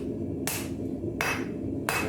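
Three evenly spaced, sharp hammer blows ring out as hot metal is forged into a knife at a blacksmith's anvil, loud and close over a steady low roar of the forge.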